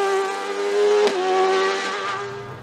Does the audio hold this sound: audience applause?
no